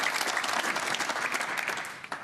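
A snooker crowd at the Scottish Open applauds, a full burst of clapping at the 2017 quarter finals that thins out and fades toward the end.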